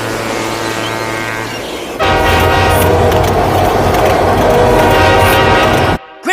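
A cartoon subway train rumbles past in New York, a steady loud roar with rail clatter that jumps in level after two seconds and cuts off abruptly near the end.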